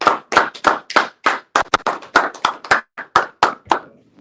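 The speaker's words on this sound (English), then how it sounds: "let's give the most high round of applause" Several pairs of hands clap in a close, steady round of applause, about a dozen sharp claps in an even rhythm before it stops.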